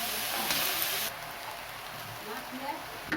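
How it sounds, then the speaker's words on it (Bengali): Cabbage frying in a pan, a close hissing sizzle that starts loud and then settles into a softer crackle. "বাঁধাকপি দিয়ে আরও একটু ভালো করে ভেজে নিতে হবে"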